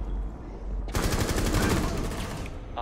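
Rapid gunfire erupts in the Rainbow Six Siege video game, a loud close burst of fast repeated shots lasting under two seconds.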